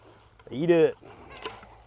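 A farm animal at feeding time gives one loud, rising-and-falling squeal lasting about half a second, followed by quieter shuffling and a brief faint call nearby.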